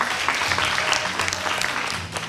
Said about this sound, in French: On va applaudir pour elle.